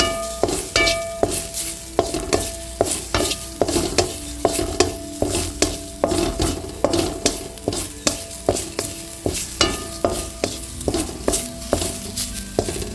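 Ingredients dry-roasted in a pan for drumstick-leaf podi, stirred with steady rhythmic scraping strokes roughly every half second, each with a faint sizzle, close and clear with no voices.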